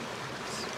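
Miller Creek, a mountain stream along the Tahoe Rim Trail, rushes steadily in a brief, continuous burst of broadband water noise with no voices.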